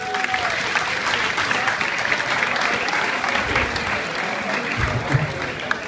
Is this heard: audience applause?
yes